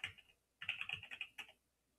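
Computer keyboard being typed on to enter a command, a short burst of quick close key clicks followed by a single final keystroke, heard alone in a quiet room.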